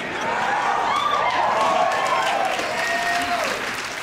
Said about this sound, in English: Everyone that clapped will be in a program.